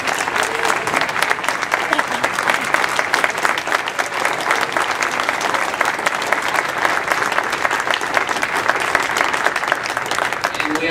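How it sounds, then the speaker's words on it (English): An audience gives a sustained round of applause at a farewell tribute for a club president, dense steady clapping filling the room throughout with no pauses. "I'd like to, before we go, give him a round of applause for the good year that he had."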